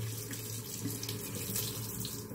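A tap runs steadily into a sink while a Proraso shaving brush is rinsed under it, making a constant close rushing splash with no talking.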